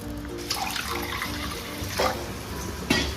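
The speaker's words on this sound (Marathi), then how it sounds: "याच्यामध्ये पाणी टाकते" Water pours from the dal vessel into a pot of tempered dal with a steady splashing stream, a few louder gushes punctuating the flow.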